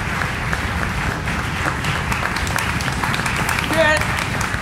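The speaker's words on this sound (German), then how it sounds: "Und einen großen Applaus auch." Audience at a German stage event applauding, a dense, sustained wash of clapping from many hands, with a presenter speaking over it.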